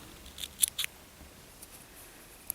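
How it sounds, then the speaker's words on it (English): Scissors cut through crochet yarn in a few quick, crisp snips close to the mic, followed after a pause by one more short snip, in an otherwise quiet room. "we're going to cut our yarn"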